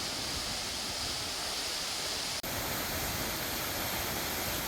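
A steady, roaring rush of a large waterfall in Tongariro National Park, New Zealand, fills the scene, broad and continuous, with a brief cut partway through.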